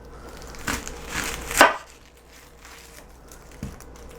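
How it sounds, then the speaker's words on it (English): A kitchen knife slices the ends off an onion on a cutting board, making a few distinct chopping thuds and crunches close by, with one sharp cut standing out, and no talking. "I'm going to cut off both ends."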